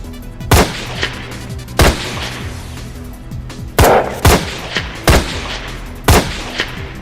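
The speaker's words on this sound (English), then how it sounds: "Gunfire?" Sharp, loud gunshots in a game crack out one at a time at irregular intervals, about seven in all, over a low steady hum.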